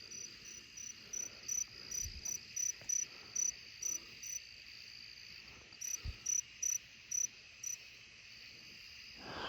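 Night-time cricket chirping near a grandmother's house: bright high trills in regular bursts with brief pauses between runs, close and distinct over a low, quiet backdrop, with a couple of soft thumps and no speech.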